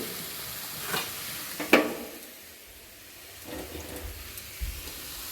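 Bitter gourd with salt, cumin and turmeric fried in a pan, with a soft sizzle and a few sharper spatula scrapes and clinks, fairly quiet and close, no voices.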